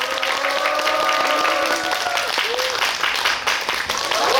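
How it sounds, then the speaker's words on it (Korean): Steady applause from an audience greeting actors and a director fills the clip, with a voice speaking in Korean over the clapping throughout. "다시 한번 큰 박수 부탁드립니다"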